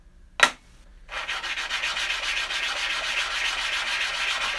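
A blade being sharpened during a bushcraft session, heard as a sharp scrape followed by a steady, continuous abrasive rubbing that carries on close and fairly loud with no talk.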